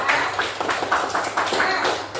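A primary school class claps hands together in a short burst of a few rhythmic, fairly close claps.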